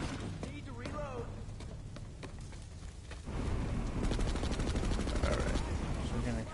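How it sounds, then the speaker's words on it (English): Rapid gunfire in Planetside 2, with dense automatic bursts and sharp shots that grow louder and more sustained in the second half, layered over game ambience. "Nice shooting there."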